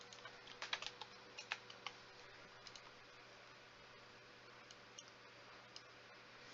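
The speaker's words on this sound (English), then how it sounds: "I have to keep typing that in" Quiet, irregular clicking of keys on a computer keyboard during mod development work, sparse bursts of keystrokes over steady background hiss with no talking.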